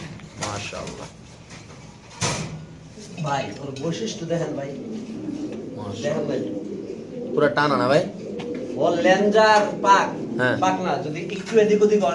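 Pigeons at a pigeon market coo softly and repeatedly close by, their low throaty calls mixing with people talking nearby.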